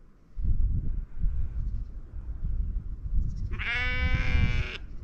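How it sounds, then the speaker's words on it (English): A single sheep lets out a loud, close, drawn-out bleat by the roadside, standing clearly above a steady low rumble of background noise. "How many sheep do these people have?"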